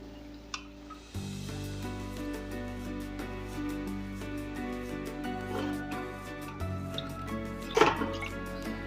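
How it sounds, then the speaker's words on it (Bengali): Water goes into a pot of cooking bitter dal with cucumber and drumstick, producing soft drips and small splashes over a low kitchen hum, quiet and close, with no talking. "এরকম অবস্থায় এটা দিয়ে দিলাম জলটা যে যার পরিমাণ অনুযায়ী দেবেন"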